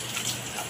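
Warm water gushes and splashes steadily while a pet cat is bathed during grooming, a short continuous pour with no talking.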